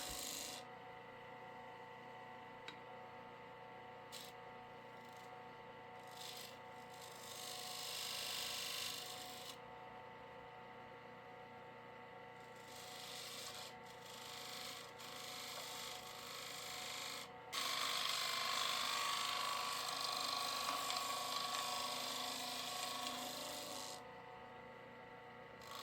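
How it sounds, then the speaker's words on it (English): A spindle gouge shear-cuts inside an odd-shaped wooden fruit bowl spinning on a lathe, a steady close rasping scrape that swells and eases in long passes over the motor's hum. "Here I'm using a shear cut with my spindle gouge again."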